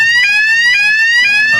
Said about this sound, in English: that's the sound of the alarm